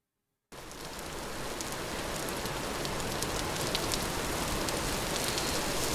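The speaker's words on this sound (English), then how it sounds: "And of course it's raining." Steady rain in the video game Vintage Story falls across a surface, a dense hiss with scattered drop patters, starting abruptly after a brief silence and holding even throughout.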